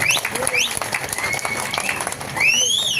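Applause from an audience at a Tamil public gathering tied to a Perumal temple trustee committee: a steady patter of clapping, with rising whistles cutting through and voices murmuring underneath.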